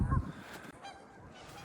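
Geese honk outdoors by an icy shore with icebergs, a single loud nearby honk at the start followed by quieter, fainter calling and ambient noise.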